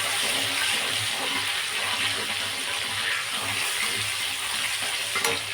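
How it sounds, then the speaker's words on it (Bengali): Fresh tomatoes fry in hot mustard and refined oil with a loud, dense, continuous sizzle up close, textured by occasional stirring and no voices. "তাহলে তেলটা গরম হয়ে গেছে দিয়েছি দুই রকম তেল সরিষা আর একটু রিফাইন তেল তারপরে দিয়ে দিচ্ছি হচ্ছে বেশ খানিকটা টমেটো"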